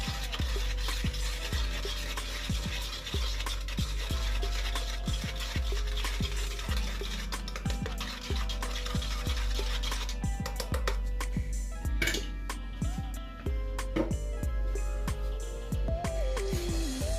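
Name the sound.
old toothbrush mixing a loose paste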